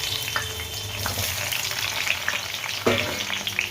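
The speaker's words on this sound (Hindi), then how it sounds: "तो तेल गरम हो गया, गैस लो कर देती हूँ। अब इसमें सारा बैगन डालेंगे" Eggplant frying in hot oil over a low gas flame, a dense continuous sizzle with small crackles and a brief stir-like scrape, close and loud.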